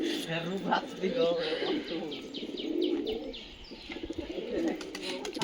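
Domestic pigeons kept in a loft or cage coo repeatedly and softly beside a person's voice. Low, throaty rolling calls return throughout, with faint chirps mixed in.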